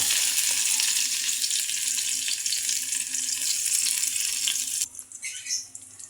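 Garlic frying in hot cooking oil gives a dense, bright sizzle heard close and loud. It cuts off abruptly near the end, leaving softer, uneven crackles.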